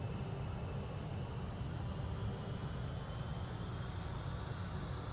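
Continuous engine drone of a helicopter in the naval game Red Horizon, a steady loud rumble held without a break and with no talk.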